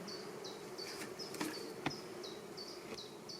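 Honey bees buzzing around an open hive being smoked between the super and the brood box, a steady close drone with individual bees whining past repeatedly and a couple of faint clicks.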